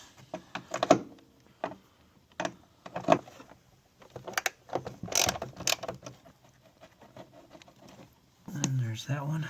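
A ratchet clicks in short bursts while 13 millimeter battery tray bolts come out of a Jeep Liberty CRD, close and fairly faint, with someone talking between the bursts.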